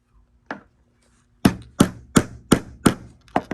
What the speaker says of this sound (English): hammer and nail. The nails should poke through to the other side.